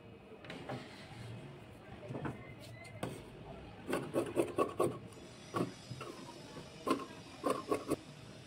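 Scissors cut through fabric pieces for a three-layer frock, giving soft rasping snips and rubbing in irregular bursts that grow denser toward the end, close and moderately quiet.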